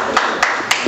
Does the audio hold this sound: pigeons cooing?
no